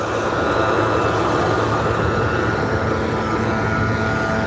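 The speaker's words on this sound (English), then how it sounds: "Train." A train rolls past in snowy winter surroundings, a loud, steady rumble that fills the whole moment without letup.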